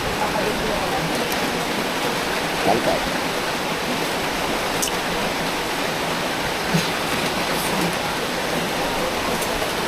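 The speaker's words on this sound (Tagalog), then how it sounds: "Ayan po, napakalakas ang ulan." Heavy tropical rain pours steadily on Siargao Island, a dense continuous wash close by, with a brief voice spoken over it.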